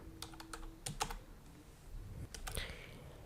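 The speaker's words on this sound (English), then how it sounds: "In the search plugins box, type here simple page reorder" Quiet computer keyboard typing, a short run of light key taps clustered in a few bursts, close but soft, with no voices.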